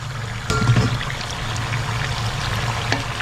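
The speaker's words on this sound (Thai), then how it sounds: "พอน้ำมันเราร้อนจัดแล้วนะครับ ก็นำปอกเปี้ยเราลงไปทอดซ้ำนะครับ" Spring rolls drop into very hot oil for a second deep-fry, setting off a sudden surge of bubbling that settles into a steady, close, rushing fry.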